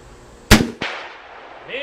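Two sharp reports from a Ruger Redhawk .44 Magnum revolver on an outdoor range, a loud shot followed quickly by a second crack, each decaying into ringing echo before a faint voice near the end.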